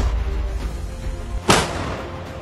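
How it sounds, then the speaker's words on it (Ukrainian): A 120 mm mortar fires outdoors, giving one loud, close blast with a sharp crack that then rolls off into a lingering rumble, coming after a low steady background hum. "є команда постріл, я закидаю міну"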